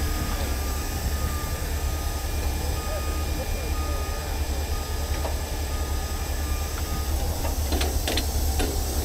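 A tow truck winches a wrecked dump truck back toward the freeway with a loud, steady mechanical drone and whine, and a few sharp clanks near the end, under voices.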